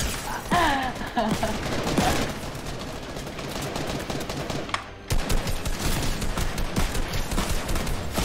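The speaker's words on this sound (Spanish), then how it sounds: "me estás disparando entre dos, Julio" Gunfire in the Fortnite pirate-map Plunder minigame, with dense, continuous bursts of shots and clatter running throughout, under excited voices talking and shouting.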